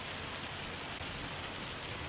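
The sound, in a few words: hail falling in Farming Simulator 25 video game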